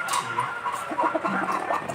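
Chickens of fancy breeds such as bantam, silkie, Brahma and Polish cluck in short bursts nearby at a small poultry farm, a few birds overlapping in a busy, uneven rhythm with no talking.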